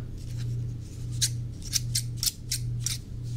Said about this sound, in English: I hope you like scissors.